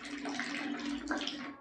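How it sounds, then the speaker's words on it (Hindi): Water pours from a hole in a magic trick container, a short, close splashing stream that runs on steadily for a moment with no talk over it. "देखो आ रहा है पानी।"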